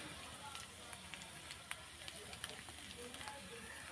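Onions frying in a pan for a Bengali hilsa fish bhuna, a faint steady sizzle with small crackling pops scattered throughout, low and unbroken.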